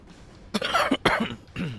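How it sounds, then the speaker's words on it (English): A few sharp, close coughs in a short burst, loud and harsh, with no talking. "Sorry for coughing in the microphone."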